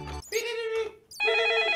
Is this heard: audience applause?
no